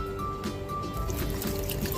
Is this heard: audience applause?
no